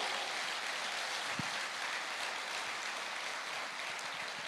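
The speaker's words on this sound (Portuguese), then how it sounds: "você pode aplaudir o Senhor?" Congregation applauding during a church service, a continuous even patter of many hands clapping at moderate distance, steady and uninterrupted with no talk.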